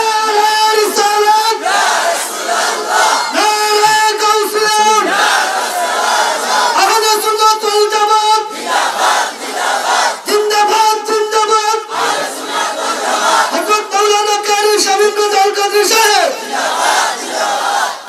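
A large religious gathering shouts takbir in loud, chanted unison bursts that repeat rhythmically over several seconds, with each call swelling and then breaking off in short pauses.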